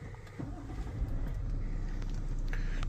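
Toyota Land Cruiser ZX V6 twin-turbo diesel turns over and fires up, the quiet cabin hum swelling into a steady low engine rumble within a second, heard from inside the vehicle.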